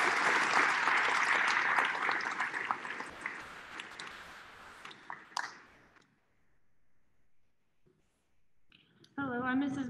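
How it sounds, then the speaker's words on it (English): At an end-of-year school awards ceremony, an audience claps in a dense burst of applause that thins out and fades to near silence, then a voice begins speaking close to the microphone. "Give them one more round of applause."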